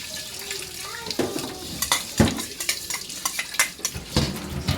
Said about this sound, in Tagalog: Saka natin siya i-mix ngayon